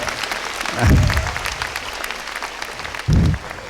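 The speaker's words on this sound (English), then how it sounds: "Please give her a round of applause for choosing AirAsia's color." Lecture audience applauding in a hall, with a broad burst of clapping near the start and another short burst later, crowd noise filling the gaps between them.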